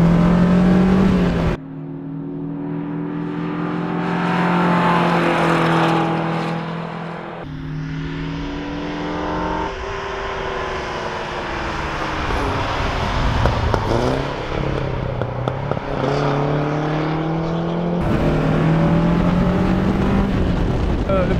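A Caterham race car engine on track at full throttle, loud and close, revving up through the gears with a rising whine and several shifts, a steady roaring drone from start to finish.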